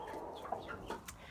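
Backyard chickens cluck softly in a stall, several short, close, irregular clucks over quiet background noise, with no talking.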